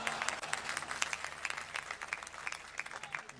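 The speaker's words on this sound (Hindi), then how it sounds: "तालियां जाएं फैसल सब्ज़वारी के लिए" Audience applause fills a poetry mushaira at Mohatta Palace, a steady wash of many hands clapping at moderate distance, continuous without a break and with no voices over it.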